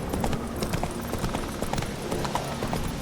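Hooves of a horse galloping in The Witcher 3, a rapid, steady clip-clop rhythm running throughout over faint game ambience.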